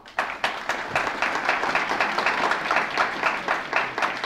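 An audience at a conference applauds: dense, steady clapping from many hands filling the room, close and loud, continuing without pause.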